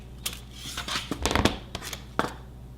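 Cutters snip jewelry wire measured for a wire wrap ring, giving several sharp close clicks and rustles clustered in the middle and one more crisp snip near the end.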